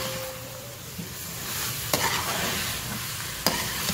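A pot of vegetable biryani with rice, cabbage and capsicum being stirred, a spoon scraping and turning the mixture over a soft steady sizzle, with two distinct knocks against the pot.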